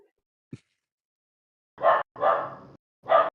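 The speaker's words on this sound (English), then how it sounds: "You hear a dog barking." Dog barking as a tabletop role-playing game sound effect: three loud, close barks in quick succession after a faint click, with no talk over them.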